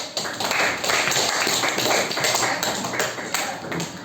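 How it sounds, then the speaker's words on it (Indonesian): A sixth-grade classroom of children claps hands together in quick, steady, rhythmic bursts that carry on for several seconds at close range. "Mari kita tepuk tangan dulu."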